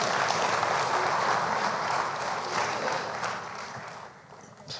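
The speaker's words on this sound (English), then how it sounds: "it's okay to applaud for them because they're awesome" Audience applause at a talk, a dense steady wash of clapping that slowly fades toward the end, moderately distant and fairly quiet, with no speech over it.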